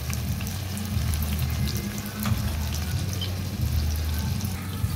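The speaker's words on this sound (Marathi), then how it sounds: "कांदा छान आपण तेलावर परतून घेऊया।" Finely chopped onions with crushed ginger-garlic sautéing in oil in a pan over a wood-fired clay stove, a steady close hiss and crackle running throughout, with a low rumbling hum underneath and no talking.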